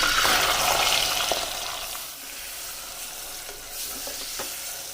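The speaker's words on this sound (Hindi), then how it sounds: "इसी ऑयल में डाल देते हैं ये 300 ग्राम प्याज" Sliced onions, 300 grams, sizzle steadily in hot oil in a pot that had just held chicken pieces, with occasional stirring scrapes; the frying hiss is strongest at first, then eases to a softer, steady crackle.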